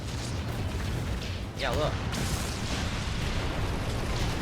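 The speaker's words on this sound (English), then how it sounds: "So all you're doing is sailing your ship and aiming and firing cannons." Ship cannons fire in the pirate naval video game Skull & Bones, a rumbling boom with a burst near the midpoint, with someone talking over it.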